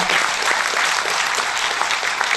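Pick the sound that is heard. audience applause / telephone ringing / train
audience applause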